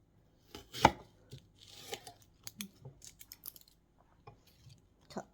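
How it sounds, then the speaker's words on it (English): Onions are chopped with a knife on a board for a chicken noodle soup, with irregular crisp cuts and taps, one louder chop near the start, close by and fairly quiet, with no talk. "cut the onions"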